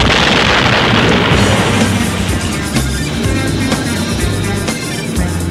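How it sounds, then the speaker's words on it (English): A giant explosion blasts open a hole in a door as an audiobook sound effect, a loud sustained roar of booming rumble and debris filling the whole stretch with no voices. "A giant explosion blew open a hole in the door"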